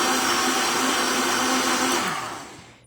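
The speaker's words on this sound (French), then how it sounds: "Là, je vais partir le mélangeur." A kitchen blender mixes a protein shake with a steady, loud whirring roar that runs unbroken before spinning down near the end, with no voices.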